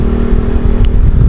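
Yamaha Jupiter Z1 motorcycle fitted with a Tsukigi aftermarket exhaust, heard briefly as a steady close engine drone with a slight rattle, no speech.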